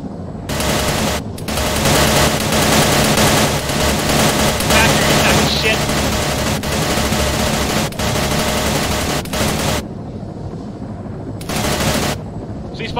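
Sustained machine gun fire from a gunship in a combat flight game, loud and close, with long continuous bursts that stop briefly near the end and then resume, with no talking.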